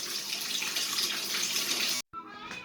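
Tap water runs into a bathtub with a steady, loud hiss that stops abruptly and then resumes more quietly with splashing.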